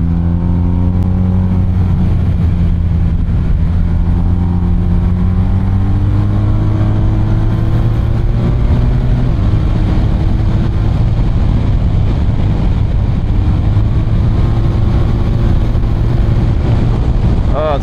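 A BMW 1250RT motorcycle cruises on a cool, overcast mountain road, its steady engine drone shifting pitch with gear changes over continuous wind buffeting, loud and close throughout.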